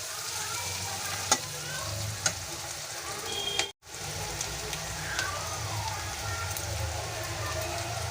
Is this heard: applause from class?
no